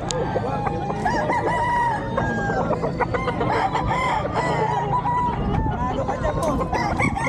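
Gamecock roosters at a cockfight sale market in Bocaue crow repeatedly and overlap, loud and close, with clucking and a busy crowd murmur throughout.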